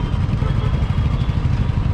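A new motorcycle idles with a steady, close, low rumble and a fine mechanical clatter that holds even for two seconds with no talking.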